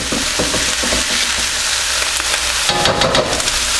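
Chips stir-frying in a wok, a loud continuous sizzle with rattling, scraping bursts as the food is tossed and turned, swelling sharply near the end.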